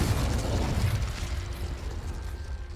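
A Confringo blasting spell from the Hogwarts Legacy video game fires as a dense, rumbling burst with a crackling mechanical texture, heavy and loud at first, then easing slightly as it fades.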